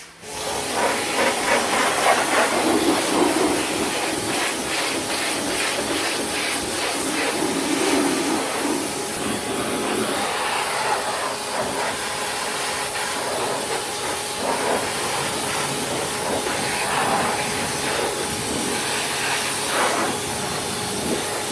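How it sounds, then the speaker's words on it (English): Pressure washer spraying a diesel van's engine bay, a loud steady hissing rush of water that holds throughout with small shifts in texture, no voices. "then we got onto pressure washing"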